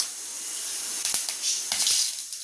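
Two dried red chillies, broken by hand, hiss and sizzle as they drop into hot oil in a kadai for a Coimbatore-style paruppu thaalipu, a loud broadband spatter with a few sharp crackles and pops.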